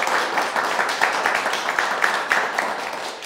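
An audience claps together in steady, dense applause at a community talk, a continuous wash of hand claps with no voices standing out.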